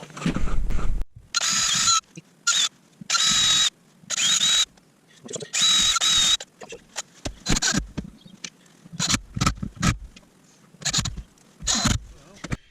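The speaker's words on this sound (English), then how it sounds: "we can drill a small pilot hole and get that faceplate on" A power drill whirs in short bursts, drilling a pilot hole in oak to mount a lathe faceplate, starting and stopping repeatedly, followed by clattering handling noises at close range.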